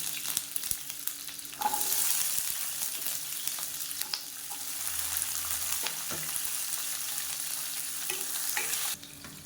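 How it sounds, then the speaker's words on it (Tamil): Small onions and garlic fry in oil in a pan, a steady bright hiss with occasional spoon scrapes and pops, close and fairly loud throughout, no talking. "இப்போ வெங்காயம் லேசாக வதங்கிடுச்சு"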